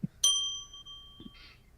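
A single clear bell ding rings out and decays with a long, pure sustain, followed by a small clatter. It is close and heard alone.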